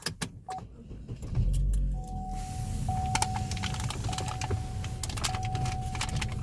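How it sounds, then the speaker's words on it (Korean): A 2014 Chevrolet Cruze being started from inside the cabin: a key jingle and click, then a short starter crank as the engine catches and settles into a steady low idle hum, with a faint chime on top. "그리고 여기 시동 한번 걸어볼게요"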